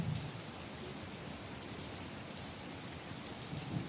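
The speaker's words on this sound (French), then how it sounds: "Avec le bruit de la pluie, aujourd'hui il pleut." Steady rain falls continuously, a dense even hiss with scattered drops, moderately close and without any voices.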